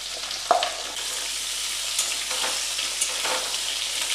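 Diced pumpkin and potato cubes tipped into hot oil in a pan, a sharp clatter as they land, then a steady crackling sizzle with light stirring throughout.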